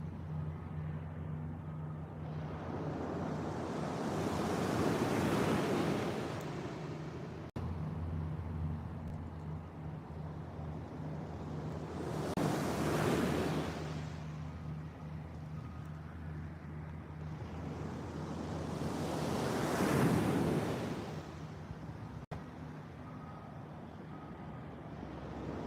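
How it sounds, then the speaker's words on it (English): Ocean waves break on a beach at sunrise, rising in broad rushing swells about every seven seconds over a steady low roar, with no one talking. "Can you hear the waves?"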